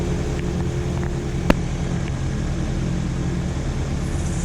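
A gyrocopter engine drones steadily at around 2000 RPM while the rotor is pre-rotated on an estuary at low tide, a loud, continuous hum with one brief sharp click partway through; no voices.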